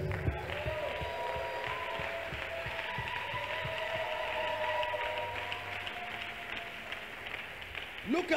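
Audience clapping for a choir, steady applause with a crowd murmur and some faint tonal sound beneath it, moderately distant and lasting throughout.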